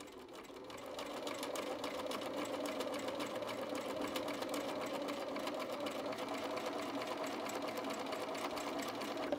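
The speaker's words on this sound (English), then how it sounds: "Then you're just going to continue sewing all the way down to the end of the fabric." Sewing machine stitching a Y-seam through fabric, a steady, continuous mechanical whir with a fast rhythmic needle patter, close and even from start to finish.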